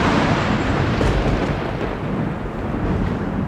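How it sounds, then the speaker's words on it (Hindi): Thunder crack sound effect in a Hindi scary story podcast: a loud, sustained roar of thunder and rumble fills the whole stretch, with no voice over it. "आकाश में बिजली कड़की और एक तेज प्रकाश हुआ"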